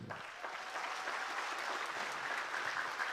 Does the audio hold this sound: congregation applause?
yes